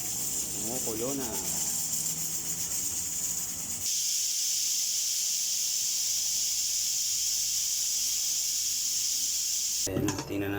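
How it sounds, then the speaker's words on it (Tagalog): A pot of beef tendon and bulalo broth seasoned with pepper boils steadily, giving a continuous loud hiss and bubbling roar, with a brief voice at the start. "Kumukulo na."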